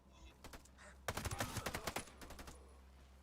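Burst of rapid, closely overlapping gunshots in Ghost Recon Breakpoint, a tight cluster of sharp cracks lasting about a second and a half, moderately loud against a quiet background.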